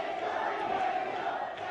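A wrestling arena crowd chants for the wrestler Angel during a match, a sustained, massed roar of many voices from a distance with a rhythmic swell, no commentary over it.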